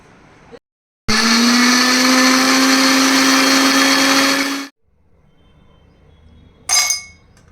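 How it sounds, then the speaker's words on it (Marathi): A sharp click, then an electric mixer grinder whirs loudly and steadily for about four seconds blending papaya juice before stopping; a brief glassy clink follows. "आपण इथे मिक्सर लावून घेऊया"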